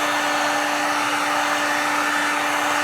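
A heat gun blows a constant, loud airy roar with a steady high whine while shrinking window tint film, unbroken throughout.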